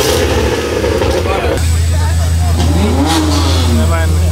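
BMW cars revving their engines at a rainy Bimmer Invasion car meet in Orlando: loud close revs rising and falling, one engine sweeping up in pitch, over a steady rumble.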